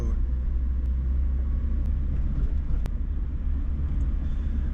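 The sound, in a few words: car driving slowly through Baltimore streets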